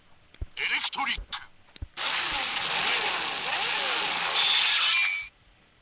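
Game engine sound effect from a gacha game's engine-braid item, a loud sustained broadband roar lasting over three seconds after a few short choppy bursts, with no talk.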